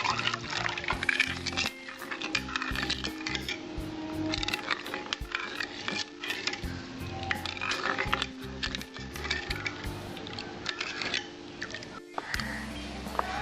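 Water poured into a homemade mint and lemon sherbet, a steady liquid trickle running throughout with scattered clinks and small clatters on top, fairly quiet and without talk.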